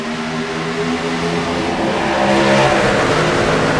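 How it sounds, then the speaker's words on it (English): Race truck engines rev hard at a restart, several motors droning and winding up together in a loud, layered roar that swells toward the end. "I love that sound of the engines getting wound up there"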